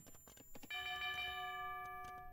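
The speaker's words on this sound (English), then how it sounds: "Bell is rung." A town bell in the Age of Empires video game rings out with a bright, sustained metallic tone that hangs and slowly decays, following a few short clicks and game sounds at the start.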